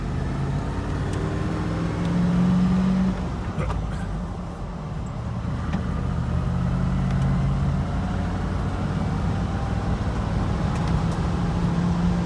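A Land Rover Defender 90 on its first road test after fuel, brake and wiring service, its engine droning steadily with road and tyre noise throughout, swelling briefly as it accelerates, with no one speaking.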